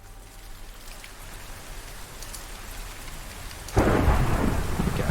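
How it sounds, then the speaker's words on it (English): Rain and rolling thunder in Minecraft: steady rain hiss, then a loud thunderclap cracks in near the end and rumbles on over the downpour, with no voices. "I guess the game has just decided it's gonna rain today."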